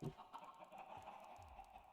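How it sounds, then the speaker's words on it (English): A possessed chicken in Minecraft gives faint, soft clucks, a few short calls set against quiet low background rumble and light ticking sounds. "So yeah, that is the possessed chicken."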